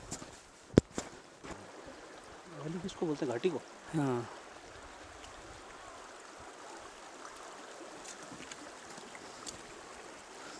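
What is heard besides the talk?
Lidder river flowing in Betaab Valley, Kashmir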